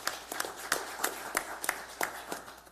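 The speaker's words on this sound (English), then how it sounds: "give yourself a hand of applause" A handful of people clapping at a committee hearing in San Diego, sparse and fairly close, with about a dozen distinct claps in an uneven rhythm rather than dense applause.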